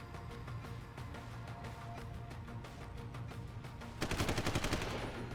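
Gunfire in the video game Deus Ex: Human Revolution: a rapid automatic burst of evenly spaced shots erupts near the end over a dense, steady game soundscape, loud and close.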